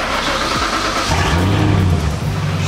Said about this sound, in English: The Sprint is finally getting taken to the exhaust shop to get the exhaust fixed.